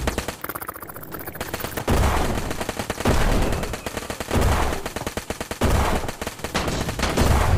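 Toy guns fire in rapid bursts with dense machine-gun rattle. The volleys swell and fall in waves throughout, loud and close, with no talk.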